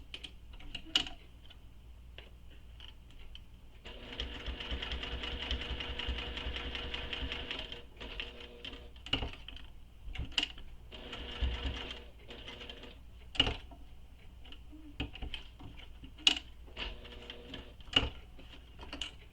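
A sewing machine runs in bursts as it stitches all the way around a circular bag, with whirring runs broken by pauses and sharp clicks, close up and with no talking.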